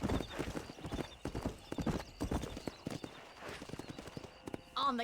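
Hooves of a horse clip-clopping at a gallop in the Red Dead Redemption video game, a steady rapid rhythm close up, with a brief whinny near the end.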